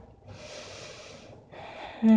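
A deep breath during a morning yoga practice, heard up close and fairly quiet: a long inhale through the nose, a brief pause, then a second breath that cuts off abruptly.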